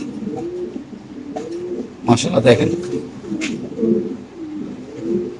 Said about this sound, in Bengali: কবুতর খুব চঞ্চল, একটু লারা দেন